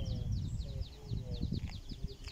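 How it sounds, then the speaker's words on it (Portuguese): Birds sing and chirp outdoors on a street during a morning walk, a run of quick repeated high tweets over low rumbling background noise and muffled handling sounds. "Mas os pássaros estão cantando."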